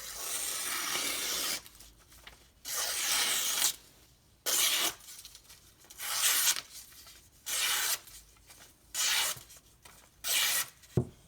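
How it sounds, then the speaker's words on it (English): Spyderco Delica SG2 knife blade drawn along a Strop Brothers leather strop loaded with white compound, giving a steady series of soft rubbing strokes in a regular back-and-forth rhythm, close and fairly quiet, with no talking. "My Strop Brothers strop, white compound."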